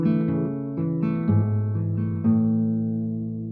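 Steel-string acoustic guitar playing a slow riff: low bass notes and plucked strings ringing together, a few deliberate attacks that let the last chord sustain.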